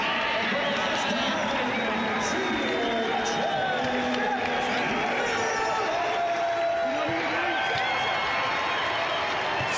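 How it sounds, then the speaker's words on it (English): Arena crowd at a Montana State Bobcats men's basketball game at the Brick gives a standing ovation to player Jed Miller, a dense, steady wash of applause and cheering throughout, with a commentator's voice over it. "Standing ovation for a Bobcat great"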